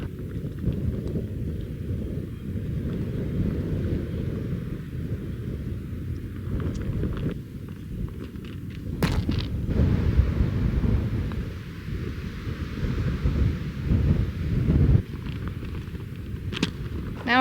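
Strong gusts of roughly 35 mph sweep across a golf course, buffeting the microphone with a deep, continuous rumble that swells and fades, loud throughout with a few brief knocks.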